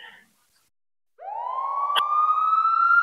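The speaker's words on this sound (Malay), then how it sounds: "korang dengar bunyi siren tak?" A police siren starts after a brief pause and holds a rising wail, fairly close and steady, with a faint click partway through.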